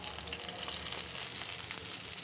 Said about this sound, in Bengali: এখন বেগুনগুলি ভাজবো।